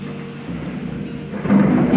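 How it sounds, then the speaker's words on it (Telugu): Thunder rumbles during heavy rain, a low rolling sound that swells noticeably louder in the second half over a steady background of rainfall. "ఉరుములు వస్తున్నాయండి, సౌండ్ వస్తుంది బాగా"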